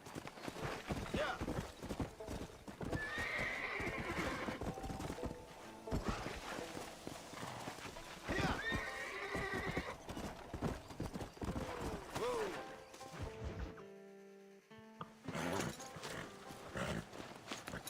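Galloping horses in Red Dead Redemption, rapid clip-clop hoofbeats with whinnies rising over them, loud and close. Shouting voices and game sounds mix in, and the scene goes quiet briefly near the end.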